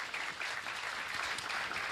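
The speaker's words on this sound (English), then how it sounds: "let's give them another round of applause" Continuous crowd applause at a grand opening of a mental health authority's administration building, dense and even throughout with no speech.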